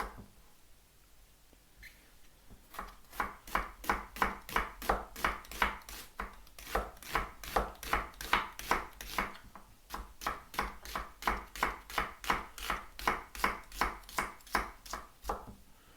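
Onion being chopped on a cutting board with a knife, as a long run of quick, evenly spaced knocks in two bursts with a short pause between them, close and clear with no talking.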